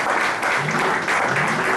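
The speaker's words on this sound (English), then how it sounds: "Give him a round of applause." Dense, loud crowd applause for a sound man at a bluegrass pops orchestra show, continuous clapping with no gaps.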